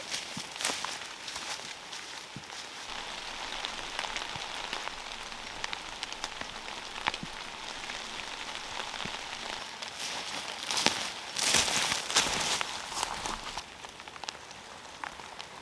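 Rain patters steadily on a fall woodland during tarp camping, a soft continuous hiss with scattered drops and crunching footsteps on wet ground that swell in the middle stretch.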